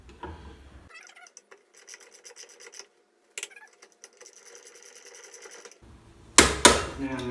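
A thin-walled socket on a torque wrench set to 50 foot-pounds tightens small nuts on a Datsun 510 R180 differential. Bursts of fine rapid ratcheting clicks repeat near and fairly faint, and a louder rattling clatter comes near the end.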